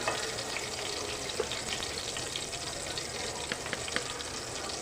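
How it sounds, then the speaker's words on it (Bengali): Chopped onions fry in a pan with a dense, continuous sizzle while a utensil stirs them, leaving small scraping ticks scattered through the hiss, close and fairly loud. "পেঁয়াজ কুচিটা দিয়ে আমি খুব সুন্দর করে নেড়ে চেড়ে এভাবে পেঁয়াজটাকে একটু হালকা ব্রাউন কালার করে নিব"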